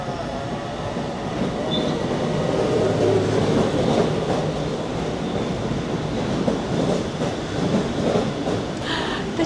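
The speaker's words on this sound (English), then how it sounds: "Train has arrived." A commuter train rumbles close by, steady and loud, with rattling wheels and a faint squeal as it rolls into the station and slows.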